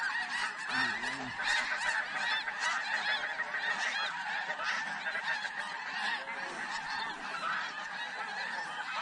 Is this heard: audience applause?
no